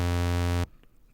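Deep synth bass note in FL Studio with a crude low pass filter, a loud sustained harmonic-rich tone for about 0.6 seconds that cuts off abruptly into near silence.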